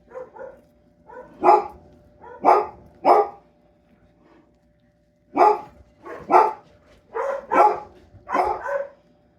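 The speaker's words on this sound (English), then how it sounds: "Not sure what the dogs are barking about, but I am sure that it is important." Several dogs bark in bursts of loud, close woofs, grouped in clusters with a brief lull midway, heard without talk in a home kitchen setting.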